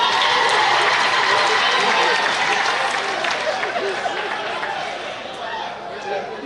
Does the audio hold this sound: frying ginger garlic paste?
no